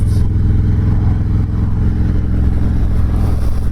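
A Harley-Davidson Dyna Low Rider S engine drones loudly and continuously, with a steady pulsing rumble as the bike rides along at an even pace.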